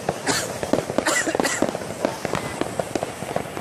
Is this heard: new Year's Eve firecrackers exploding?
yes